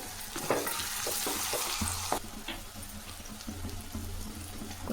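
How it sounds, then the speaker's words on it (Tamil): Tomatoes sautéing in a pan for lemon rice give a steady close sizzle with spoon stirs and scrapes, plus a brief watery splash near the start. "இதை தக்காளி மேலே இருக்கிற தோல் கைண்டி வர வரையும் வதக்குங்க."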